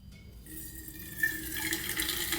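Hot Arabic coffee is poured from a flask through a tea strainer into a cup, making a close, soft, continuous trickle that rises slightly in pitch as the cup fills.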